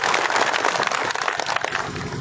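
A crowd at a gathering claps together in a dense, sustained wash of applause that continues evenly throughout, with no voices over it.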